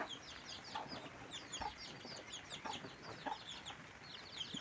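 A mother hen gives soft, repeated clucks while her chicks keep up a busy stream of high, thin peeps, all fairly quiet and close, with no one talking.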